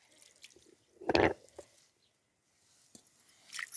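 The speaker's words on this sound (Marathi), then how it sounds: "आपण आता हो पाटाला वरोटा धुवून घेऊ" Water splashes and drips as a stone grinding slab and its roller are rinsed in a kitchen. There is one main burst of splashing, then scattered drips and faint trickles, all close and fairly quiet.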